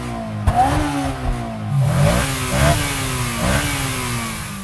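A Honda S2000's naturally aspirated 2-litre dual overhead cam VTEC engine revving freely, several sharp rising blips climbing and dropping back in a repeating pattern, close and loud with no talk.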